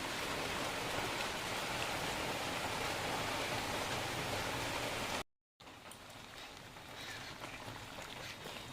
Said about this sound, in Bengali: আমি এখানে এক বাটি জল এর মধ্যে দিয়ে দিলাম